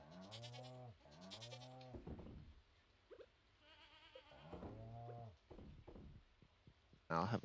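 A goat in Stardew Valley bleats in two quick, quavering calls, then a third after a short pause, with a player speaking between and over the cries.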